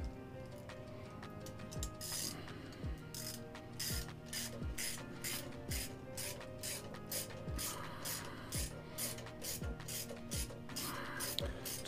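Socket ratchet tightening a bolt on Beast climbing sticks: a rapid, regular series of metallic clicks from the pawl, repeated in short bursts with brief pauses, close and fairly quiet, no talking.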